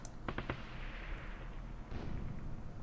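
Medium machine gun fire in the ASL mod, a short burst of three or four sharp cracks early on, then a quieter rumble and another heavier thump near the end, somewhat distant.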